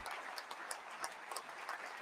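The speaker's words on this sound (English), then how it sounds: "Let's applaud." Applause from a small group at a casual podcast recording, a steady wash of clapping lasting a couple of seconds, faint and somewhat distant with no voices over it.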